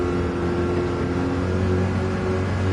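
A McLaren GTE race car in a sim racing game drones on steadily with a loud, sustained engine tone as the driver short-shifts to save fuel.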